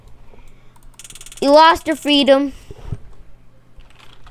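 Soft clicking of computer keyboard keys, faint and close, mostly buried under a voice that cuts in partway through.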